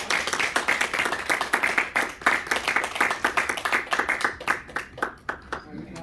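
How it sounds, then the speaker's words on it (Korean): Church congregation applauding to encourage members, loud close clapping with distinct sharp hand strikes in a quick irregular rhythm, tapering toward the end. "여러분 저기 박수로 크게 격려해 주시면 고맙겠습니다"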